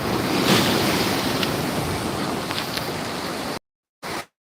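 Ocean surf breaking at Gandhi Beach in Pondicherry, a continuous broad wash of waves with wind buffeting the microphone, cut off abruptly near the end apart from one brief burst.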